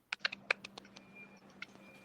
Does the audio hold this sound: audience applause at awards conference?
no